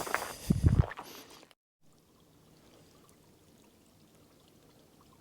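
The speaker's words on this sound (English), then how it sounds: "Hope you can hear that little stream. Just a teeny tiny trickle of water, basically." A tiny stream trickles over mossy rocks beside a trail. A brief close gush of pouring water fades into a faint, steady trickle.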